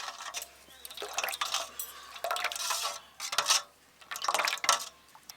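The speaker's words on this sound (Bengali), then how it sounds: "এবার আম, চিনি আর দুধ একসঙ্গে ভালো করে মিশিয়ে গুলিয়ে নেব" Mango, sugar and milk stirred together in a pot, a spoon scraping and clinking against the metal in several close bursts with brief pauses and wet sloshing between them, with no voices.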